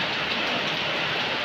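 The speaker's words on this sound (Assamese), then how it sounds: "বাহিৰত বৰষুণ ইমানেই বৰষুণ হৈ আছে যে আপুনি চম্ভালিবই পৰা নাই।" Heavy rain pours outside Bhimashankar temple in the Bhimagiri hills of Maharashtra, a dense, loud, unbroken roar close by, heard alone without any voices.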